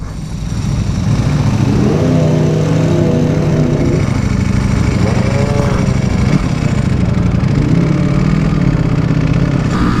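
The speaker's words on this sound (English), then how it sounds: "Dry clutch, so cool." A Ducati Panigale V4 R motorcycle with a dry clutch, heard up close as a loud continuous engine rumble with a rattling mechanical clatter and slight revving shifts throughout.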